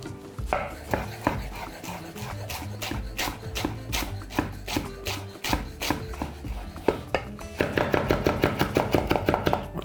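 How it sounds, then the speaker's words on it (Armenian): A knife taps in quick, steady strokes on a cutting board as fresh mint leaves are finely chopped. The close, crisp rhythm speeds into a rapid run near the end. "Մանր կտրատում ենք և ավելացնում ենք սոխի վրա"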